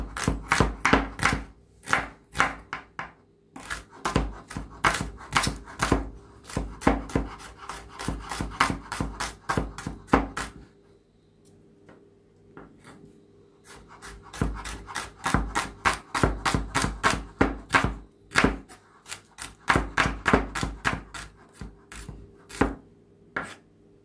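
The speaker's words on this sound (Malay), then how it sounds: "Bawang pun kita iris halus." A knife finely slices onions on a board in fast, steady runs of sharp, close chopping strokes, with a short pause midway before the cutting resumes.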